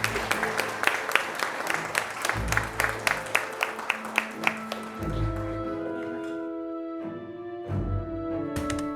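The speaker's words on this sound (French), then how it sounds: "on peut les applaudir" Wedding guests clap for the newlywed couple, scattered individual claps ringing out at first and then giving way to a sustained tone and chatter as the applause tapers off.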